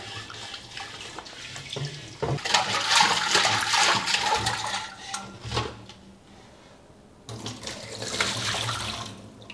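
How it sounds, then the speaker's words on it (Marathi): Running water splashes over the outside of a clay water pot in bursts, loud and close, pausing briefly before the splashing resumes. "आपण याला बाहेरून पण स्वच्छ धुवून घेऊया"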